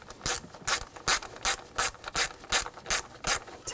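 Ten or so evenly spaced ratchet clicks sound up close as a ratchet wrench snugs down the ignition coil bolts on a 2000–2006 BMW X5 3.0L inline-six. The clicks are crisp and steady, with no talk over them.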